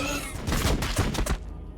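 Unit gunfire in the Warhammer strategy game Battlesector: a rapid fusillade of several loud, close bursts in quick succession, then tailing off near the end, with no voices.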